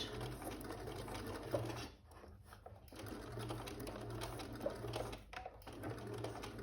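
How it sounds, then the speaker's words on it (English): Domestic sewing machine stitching a cushion seam, running with a fast, steady mechanical whir and tapping, pausing briefly twice before starting again. "So I'm going to do a few stitches forward."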